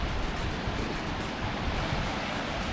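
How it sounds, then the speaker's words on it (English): A little creek in Athens, Georgia flows steadily, giving a dense, even wash of rushing water close by that holds without a break from start to finish. "Goes over this little creek here."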